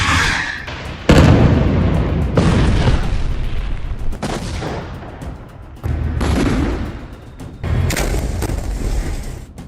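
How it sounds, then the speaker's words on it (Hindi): Explosions from carpet bombing in southern Lebanon thunder one after another, a series of heavy booms with long rumbling decays, loud and close. "दक्षिणी लेबनान में भी कारपेट बॉम्बिंग शुरू हो चुकी है"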